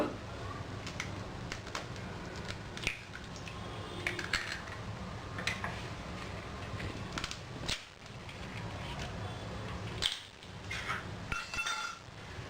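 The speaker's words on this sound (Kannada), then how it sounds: "ಇದರಲ್ಲಿ ನಾವು 2 ಮೊಟ್ಟೆ ಹಾಕ್ಕೊಳ್ಳೋಣ" Two eggs cracked into cookie dough of mixed sugar and butter in a bowl for chocolate chip cookies, with faint sharp taps and clinks against the bowl over a low, steady background.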